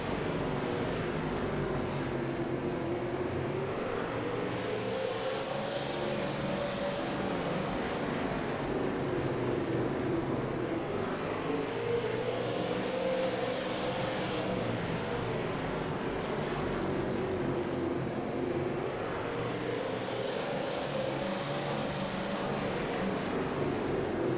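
Dirt late model race cars lap the Oxford oval, with a constant loud engine roar that swells and fades rhythmically several times as the pack circles past, no talk.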